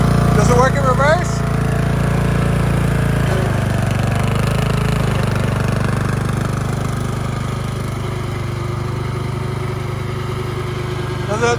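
A Craftsman LT1000 lawn tractor that has sat unused runs loud and steady at close range, its engine note dropping slightly partway through, with voices talking briefly over it.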